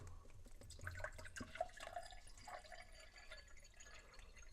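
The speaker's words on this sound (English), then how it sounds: "I'm going to pour some of the water out of it" Water trickles and splashes unevenly from a bottle of Aquafina into a glass, a soft, close pour with gurgles and drips, fairly quiet.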